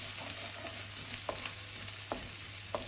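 Grated ginger browns in hot oil in a pan, giving a continuous close sizzle with a few sharp scrapes from a stirring spoon.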